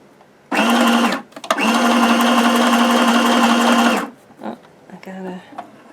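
Sewing machine stitching a large zigzag on fabric for a patchwork tag, a loud close mechanical whir in two bursts, a short one then a longer run of about two and a half seconds, followed by faint handling sounds.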